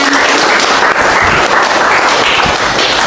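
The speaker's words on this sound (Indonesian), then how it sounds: "Oke, tepuk tangan" A nursing-college class bursts into loud, dense applause for a correct answer, close and continuous clapping filling the whole stretch without a pause.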